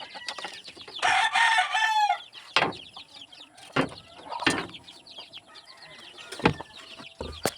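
Pet chickens kept in cages cluck and squawk up close, with one loud burst of calling early on, then scattered clucks and sharp calls continuing over a quiet farmyard background.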